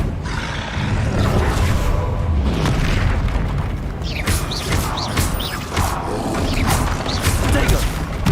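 Game sound effects from Hogwarts Legacy fill the stretch as the Bombarda explosion spell goes off, with booming blasts and crashing debris in a dense, loud mix that continues throughout, with a voice calling out now and then.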